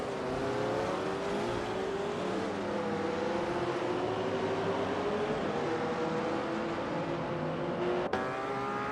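Vintage supercars race at Spa in a racing simulator game, a steady engine drone with shifting revs under constant track noise, ending with a short sharp click.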